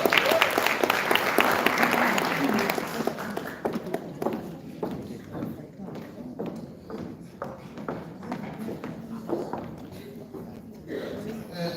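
Audience applause at a department strategy presentation, a loud dense burst of clapping that tapers after a few seconds into scattered individual claps continuing near the microphone.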